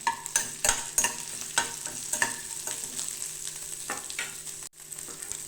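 Ginger, onion and dried red chillies sauté in a pan, with a spoon scraping and tossing in frequent, close strokes over a soft, continuous sizzle.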